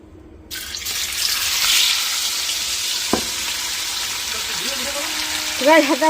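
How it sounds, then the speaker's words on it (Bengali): Paneer fries in hot oil in a kadai, a loud continuous sizzle that starts abruptly and holds steady, with a sharp clatter midway and a voice-like tone near the end. "পনির কড়াতে দিয়ে দিয়েছি একটু ভেজে নেব"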